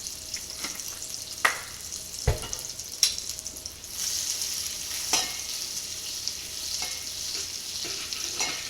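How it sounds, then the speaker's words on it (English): Scallops sizzle in a pan with butter and olive oil, a steady close frying hiss that swells partway through, broken by scattered clinks and pops. "we're going to give our scallop pan just a shot of butter here. Put a little olive oil in that to keep it from burning."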